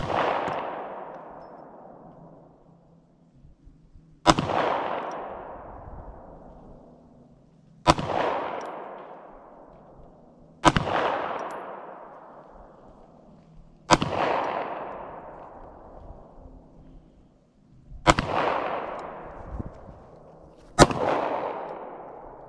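Seven sharp Hi-Point pistol shots fired at a target, each a loud crack followed by a long ringing echo decay, spaced a few seconds apart.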